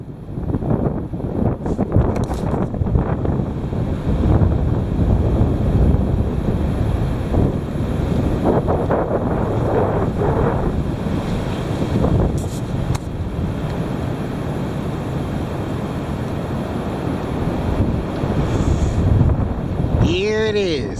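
Heavy wind blows in a steady, loud roar that buffets the microphone throughout, with brief gusty swells and a short whistling sweep near the end.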